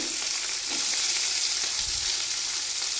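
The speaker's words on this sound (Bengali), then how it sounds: "কড়াইতে দিয়ে দিয়েছি তেল। তো এবার ভেজে নেব পেঁয়াজ কালিটা।" Nigella seeds fry in hot oil in a wok, giving a loud, constant close sizzle with occasional small crackles and pops.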